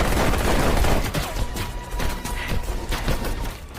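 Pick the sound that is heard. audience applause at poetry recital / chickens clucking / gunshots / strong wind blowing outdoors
gunshots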